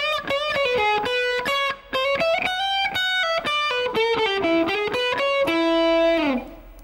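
A single blues shuffle lick on distorted electric guitar, a brisk run of picked notes ending on a long held note that fades out, played close and alone.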